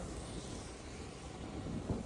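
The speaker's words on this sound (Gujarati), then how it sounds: "એક બાજુ વરસાદ ચાલુ હોય" Steady rain pours over an outdoor market, a dense unbroken hiss mixed with gusty wind buffeting the microphone, with no voices.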